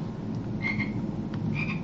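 A frog croaks in the Harry Potter and the Philosopher's Stone PS2 game, two short drawn-out croaks standing out over a steady low game ambience, with no talking.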